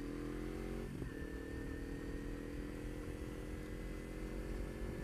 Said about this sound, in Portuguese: A Ninjinha tá com um ronquinho top